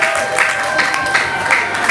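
A crowd of women cheering and clapping in a steady roar at a church banquet, with excited cries of joy rising above the noise throughout.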